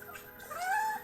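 A hostile cat lets out a rising, wavering yowl that swells toward the end, close and fairly loud, lasting about a second with no talking.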